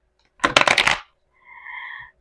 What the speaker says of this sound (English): I'm trying to shuffle, but it doesn't connect.